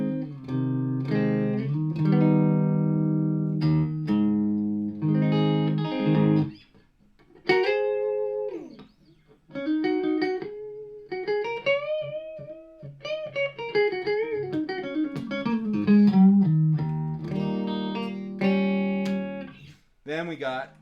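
Fender Modern Player Thinline Telecaster with both pickups on full in position 3, a jazzy clean tone as chords and single-note runs are played, close and clear with short pauses between phrases.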